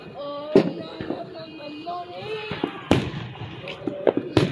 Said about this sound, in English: Rosemead Park starting their fireworks show